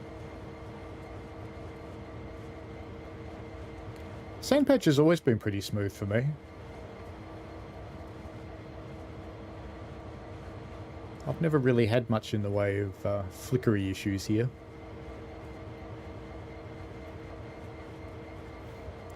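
A train running in Train Sim World 2 on the Sandpatch route, a steady low engine drone and hum throughout while someone talks over it in two stretches.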